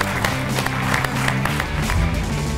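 A studio audience at a Georgian comedy game show gives sustained applause, dense loud clapping filling the room for the whole moment without a break.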